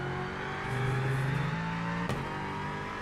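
A race car in the iRacing sim holds a steady engine drone that rises in pitch, then a sharp gear-shift blip cuts in before the tone settles and continues.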